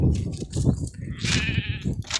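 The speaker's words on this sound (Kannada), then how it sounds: "ಕುರಿ ನೀರು ಕುಡಿಯತ್ತಾವು" Sheep bleat close by while drinking water, one wavering cry standing out clearly over a busy, shuffling flock.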